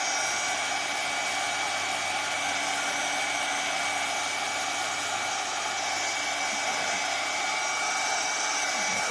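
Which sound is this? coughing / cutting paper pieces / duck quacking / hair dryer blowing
hair dryer blowing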